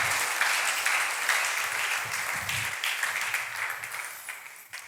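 A church congregation at a wedding service applauds together, a full, crowded burst of clapping that starts loud and slowly thins and fades toward the end, with no voices over it.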